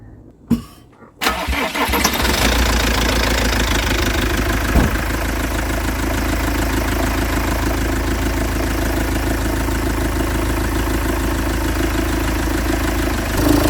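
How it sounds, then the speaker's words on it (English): A van engine cranks and starts after a couple of seconds, having sat unstarted for two days, then settles into a steady, loud, even idle that runs on without a break. "So that's idling smooth."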